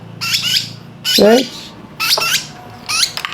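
A pet lovebird squawks in four bursts of harsh, chattering calls close by, with a person talking briefly between them.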